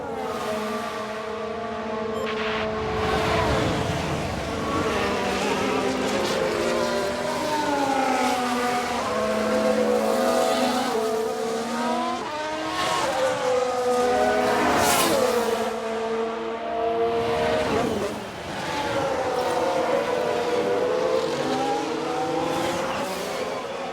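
Race cars in the F1 Manager 2022 video game, with a tyre lock-up: layered high-pitched engine whines rising and falling continuously as cars pass and shift, with sweeping pitch changes and no speech.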